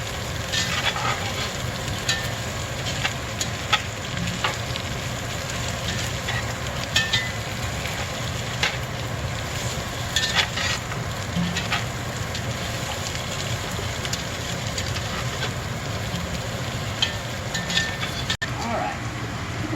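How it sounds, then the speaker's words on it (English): Irish stew ingredients are stirred together in a pot on the stove, producing a steady low bubbling rumble with scattered scrapes and clinks of the spoon. "Stir this all together."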